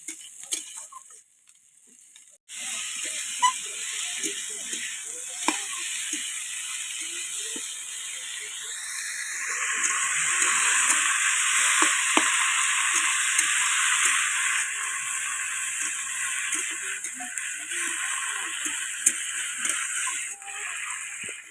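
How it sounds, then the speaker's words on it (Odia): Leafy saag greens frying in a pan, a steady hissing sizzle that starts abruptly and then swells louder midway, with faint clicks and scrapes sprinkled through, and no one speaking. "ଏବେ ଶାଗ ଭଜା ଚାଲିଛି"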